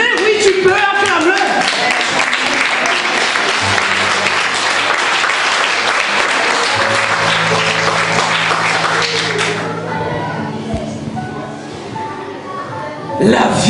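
A church congregation applauds loudly and continuously for several seconds, with cheers and voices mixed in and a sustained musical tone under it, before the clapping thins out toward the end.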